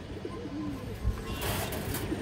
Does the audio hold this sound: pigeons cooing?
yes